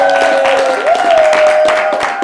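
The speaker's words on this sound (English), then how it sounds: "please give a round warm of applause to Chito Ndlovu." Studio audience at a talk show on childhood trauma applauds to welcome a guest: steady broadband clapping for about two seconds, with a sustained tonal note running underneath it.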